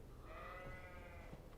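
A video game character in Kingdom Come Deliverance imitates a sheep, giving one drawn-out wavering bleat lasting about a second over a steady low background rumble.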